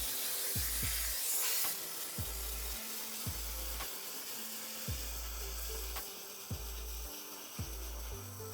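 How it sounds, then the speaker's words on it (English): A steam cleaner blasts the dirty outsole of an Air Jordan 1 Travis Scott Medium Olive sneaker with a continuous close hiss of spraying steam, broken by a few brief bursts and pauses. "we're gonna use the steamer and really steam clean and kick out all that dirt on that sole"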